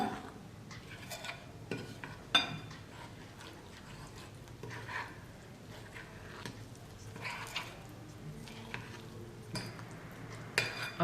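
Banana pancake batter being stirred in a bowl as milk is added, a soft continuous scraping and mixing with occasional light clinks of a utensil against the dish.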